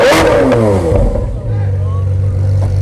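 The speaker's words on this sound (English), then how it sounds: "Bro, he just started it. Why would he rev it?" A Porsche engine starts and revs loudly nearby, a brief roaring rise followed by a steady, deep idle rumble, with people talking over it.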